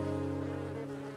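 Steady, close honey bee buzzing with a low droning hum, continuous and fairly loud throughout the short moment.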